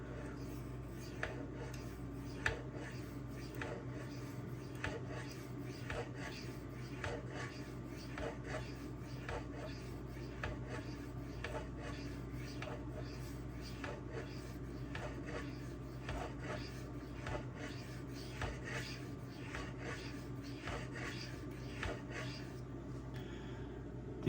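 Steady, repeated knife strokes of ZDP-189 or MagnaCut steel on a Suehiro Debado whetstone, a continuous soft rasping rub with a regular back-and-forth rhythm, close and fairly quiet throughout.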